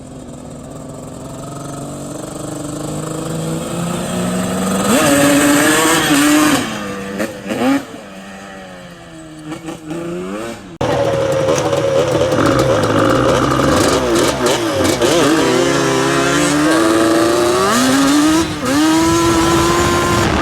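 A loud, close two-stroke Yamaha Banshee quad with a 392 cc bored engine and 68 mm dome piston barks and revs repeatedly, with rising and falling pitch sweeps and a short drop to idle midway.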